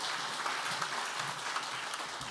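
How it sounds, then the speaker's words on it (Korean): Church congregation applauding in welcome as a pastor is introduced, a steady wash of clapping from many hands at moderate distance, continuous for a couple of seconds with no talk over it. "할렐루야로 하나님께 영광 돌리며 박수로 환영하겠습니다."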